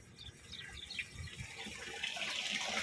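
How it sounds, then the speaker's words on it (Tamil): Rainwater runs and gurgles through a drain in a steady trickling flow, fairly quiet, with faint bird calls in the background and no speech. "தண்ணி ஓடுற சவுண்டு வச்சுருப்பாங்க."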